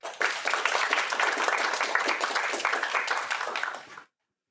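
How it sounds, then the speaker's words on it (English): Applause from an audience at a student union members' meeting, a bright, busy wash of many hands clapping at a steady level before it cuts off abruptly. "Round of applause, please."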